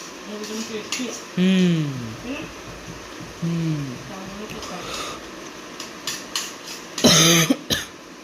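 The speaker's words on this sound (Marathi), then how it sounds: "आता खोकला आला ना" People chat, then a couple of sharp, close coughs burst out near the end after someone eats hot chillies.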